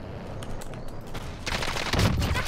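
Gunfire in the battle royale shooter Warzone, with a few faint distant shots that build into a louder, closer burst near the end.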